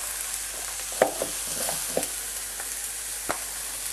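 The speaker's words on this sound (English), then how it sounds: "Just stir that round so it gets coated in all the flavours." Quinoa paella with spices stirred in a frying pan: a steady broadband sizzle throughout, with a few sharp scraping clicks of the spoon against the pan, close and fairly loud, no voices.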